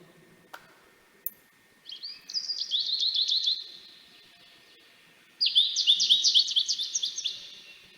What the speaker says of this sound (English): Now let's listen first to the beautiful sound of goldfinch.